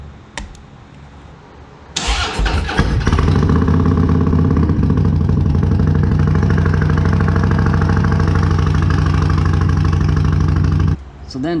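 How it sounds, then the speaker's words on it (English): Harley-Davidson motorcycle with aftermarket cams fires up after a quiet pause, then settles into a loud, steady, lumpy idle that runs close by for about nine seconds before cutting off. "Says I have to turn the bike off and wait 15 seconds and then can try starting it."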